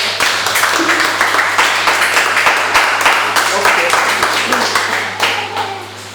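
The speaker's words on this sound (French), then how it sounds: "On acclame le Seigneur." A church congregation claps and acclaims together, steady dense applause with scattered sharper hand claps over a low sustained hum, loud and close, tapering slightly at the end, with voices mixed in.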